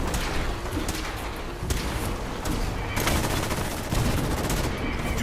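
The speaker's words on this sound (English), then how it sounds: "The cannons are ready. Fire at will." Heavy cannon fire in Fallout 4, a broadside of repeated booming blasts rolling in close succession, with dense, loud rumbling reports layered over one another throughout.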